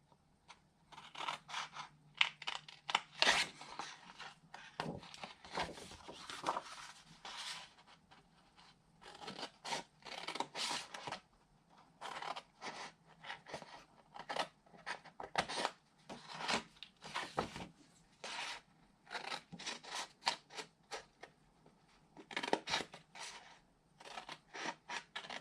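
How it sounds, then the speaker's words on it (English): Scissors cutting paper for a treat box, close crisp snips coming in short irregular bursts with quiet pauses between them, soft and alone without speech. "I'm just simply going to cut up, and I'm going to do slight angles here on both sides of my score line."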